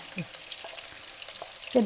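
Quiet sizzle of okra and green chillies frying in coconut oil crackles in a pan, with a few soft stirring scrapes and a louder burst of sizzling at the very end.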